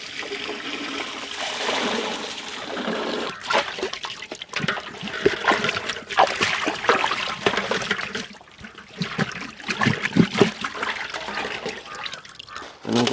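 Water is poured over a large whole fish of about 6 kg while it is washed, an uneven splashing trickle that surges and pauses over several seconds, close and fairly loud, with no talk.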